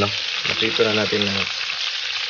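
Pork sizzles and fries in a pan while humba is being cooked, a steady crackling hiss under a short stretch of talk.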